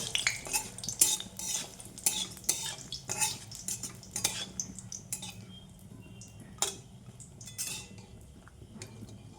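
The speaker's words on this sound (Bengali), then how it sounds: "শুকনো লঙ্কা দিয়ে দিলাম শুকনো লঙ্কাগুলো ভেজে তুলে নেবো" Dry red chillies fry in a pan during the making of a pumpkin bharta, with steady clatter and scraping of a spatula against the metal over a faint sizzle.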